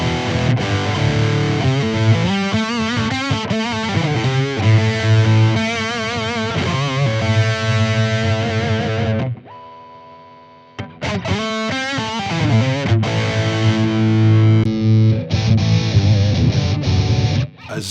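An electric guitar through a BOSS ME-90 amp model with a fuzzy distortion tone, loud and close, playing saturated chords and riffs that briefly drop to a quiet sustaining note before crashing back in.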